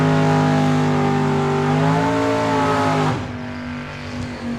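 A 1972 Dodge Dart drag race car at a dragway, its engine roaring loud and steady with strong harmonic tone, then dropping off sharply as it pulls away into a lower rumble.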